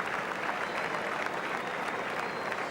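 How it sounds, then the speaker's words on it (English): Steady, dense applause from a large crowd at the close of a 1988 football testimonial match for George Best, a continuous wash of clapping held at an even level throughout. "The crowd showing their appreciation"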